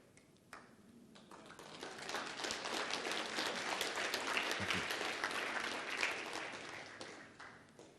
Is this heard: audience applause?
yes